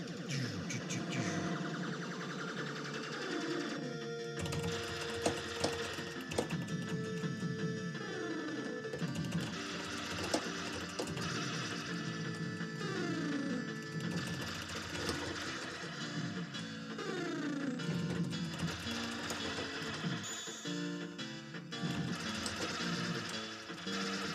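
Electronic Gyruss arcade game music plays continuously, with rapid synthetic zapping shots and blips woven into the busy beeping melody.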